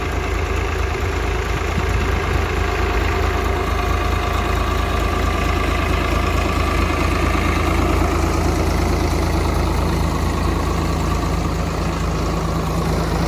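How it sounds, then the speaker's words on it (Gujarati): A driverless tractor at a potato harvest runs steadily on its own, its engine giving off a loud, constant low rumble and drone for the whole stretch without pause, with no voices. "જોઈ લો, ટ્રેક્ટરમાં કોઈ બેઠું નથી. તોય ટ્રેક્ટર હાલેરું કમ્પ્લીટ."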